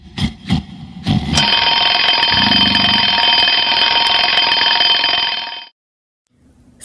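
An alarm clock rings loudly and continuously for about four seconds after a few short knocks, then cuts off abruptly into silence.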